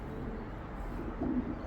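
A racing pigeon coos softly on arriving at the loft, a short low murmur rising near the end over quiet outdoor background.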